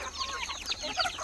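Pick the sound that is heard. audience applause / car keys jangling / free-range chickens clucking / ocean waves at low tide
free-range chickens clucking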